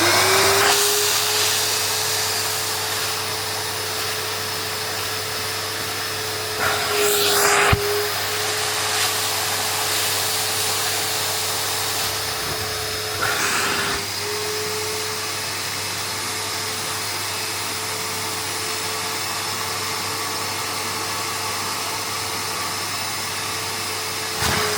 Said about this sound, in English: switch on the vac to suck up all the dirty water